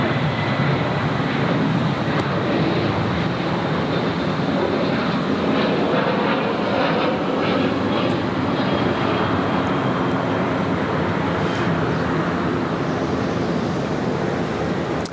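A Velocity airliner bound for Sydney takes off from runway 14 at Gold Coast Airport, its engines giving a loud, steady, broad roar from nearby that stays at full power throughout.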